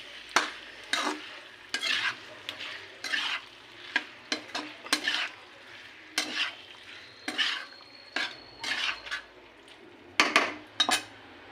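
Fried onion stirred into chicken manchurian in a pan, rhythmic bursts of spatula scraping and clattering against metal over a soft sizzle, close and clear with no voice over it.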